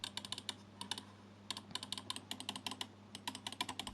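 Rapid, crisp clicks from the buttons of a Hator Quasar Wireless mouse, with Kailh GM 8.0 main switches, come in quick irregular bursts close up, alone with no talking.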